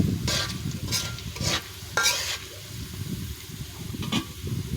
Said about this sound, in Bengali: ওখানে সব রকমের মশলা দিয়ে ভালোভাবে কষায় নিলাম